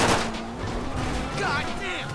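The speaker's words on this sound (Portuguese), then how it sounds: "Agora que vai ser troca de tiro aqui mesmo." Gunfire in a police shootout in Grand Theft Auto V: rapid, overlapping bursts of shots with voices talking over the game sound, dense and continuous for about two seconds.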